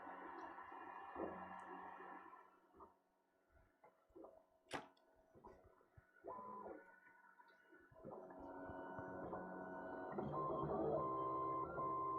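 A MingDa MD-16 3D printer lays down a raft for a tiny print, its stepper motors giving faint, shifting whines and hums with a brief sharp click, growing steadier and a little louder toward the end.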